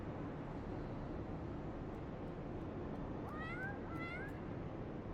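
A cat meows twice in the Final Fantasy XIV video game, two short, rising calls close together, over a steady loud background of wind-like ambient noise.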